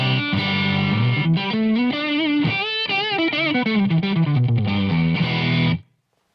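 Electric guitar with heavy distortion, played through a Marshall Code 50 amp into a 1912 cab: loud, sustained chords and single-note lines, ringing continuously and then stopping abruptly near the end.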